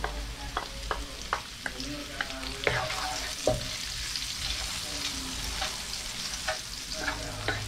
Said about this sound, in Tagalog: magigisa na tayo mga paps